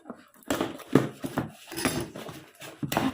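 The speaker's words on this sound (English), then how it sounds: "Let me get a knife. Just cut it open." A knife slicing open a package of skincare items, heard as a series of close scraping and tapping strokes with clattering bursts, fairly loud and without speech.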